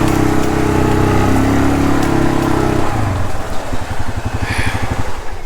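A four-wheeler ATV engine runs loud and close, first in a steady drone and then in a rougher, pulsing idle that chugs rhythmically. No one speaks over it.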